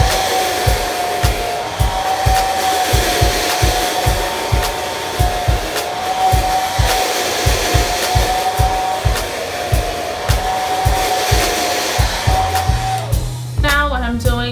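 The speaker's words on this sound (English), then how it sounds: "We're gonna take our blow dryer and just go over it like so." A hair dryer blows continuously at close range over the hair of a lace-front bob wig, its airy roar steady under a fast repeating ticking beat, then cuts off near the end.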